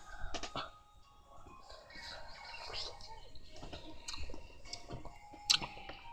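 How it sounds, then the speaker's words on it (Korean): Someone bites into and chews a giant strawberry up close, with soft wet squishing and mastication noises and a sharper bite near the end, in a quiet room with no talking. "왕딸기 먹어보겠습니다."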